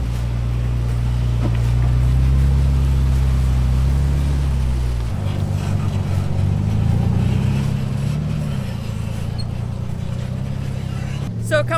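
Ford Bronco Raptor engine crawling over rocks on the Rubicon Trail, a loud low rumble that drops and shifts partway through, with wind noise, scraping and people talking nearby.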